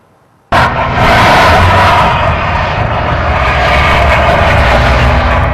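A single-engine Comanche airplane with landing gear trouble flies past close and loud before a belly landing, a sudden roaring engine drone that holds steady and dominates, with no talk.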